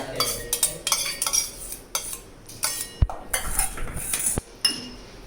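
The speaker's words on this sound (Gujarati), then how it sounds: "હવે નાખશું દહીં હવે આપણે એને મિક્સ કરી દઈશું" Curd being stirred in a bowl with a spoon, giving repeated clinks and scrapes of metal against the dish in an uneven rhythm, close and fairly loud, with no voices.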